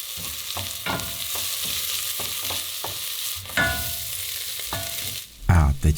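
Two cloves of pressed garlic sauté quickly in a pan, with a steady sizzle broken by a rhythmic series of scraping stirs and a louder clatter near the end.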